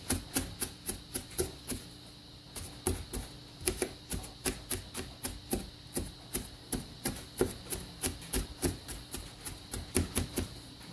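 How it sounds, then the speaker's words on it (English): A knife minces onion on a cutting board while crab rangoon filling is prepared, giving a long run of quick, evenly spaced chops that stay close and steady throughout. "But I want to mince that really small. So I don't want big onion pieces in it."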